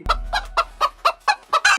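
A chicken clucks and squawks in seven sharp, evenly spaced bursts, close and loud, the last one longer and harsher.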